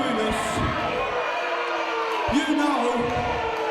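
Wrestling crowd at an indoor event booing and shouting in a steady noisy roar, with someone talking over them.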